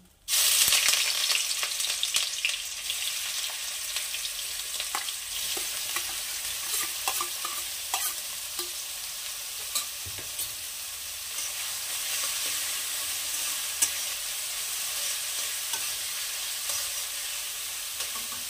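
Chopped onions hit hot oil with a dried red chili and fry with a loud, continuous sizzle, punctuated by steady stirring and scraping in the pan.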